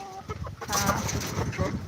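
A black karinkozhi chicken clucks near a cage among other poultry, with short, close, repeated clucks mixed with a voice speaking.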